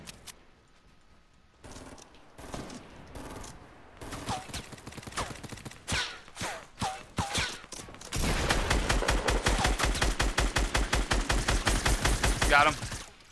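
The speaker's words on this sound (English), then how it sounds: "I'm hurting him with a scope AR." Scoped assault rifle gunfire in a video game: sparse single shots and short bursts at first, then a long, steady rapid string of loud, evenly spaced rounds before cutting off.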